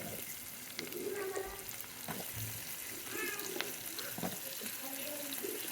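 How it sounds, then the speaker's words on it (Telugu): A steady sizzle and faint bubbling fill a home kitchen as onions and green chillies fry in tempering oil for an okra curry. The sound stays soft and continuous, with faint voice-like murmurs in the background. "పోపు చేసిన ఉల్లిగడ్డలు, పచ్చిమిర్చి,"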